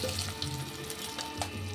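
Rohu fish pieces frying in oil in a pan, a steady moderate sizzle with small pops and crackles, alone and close.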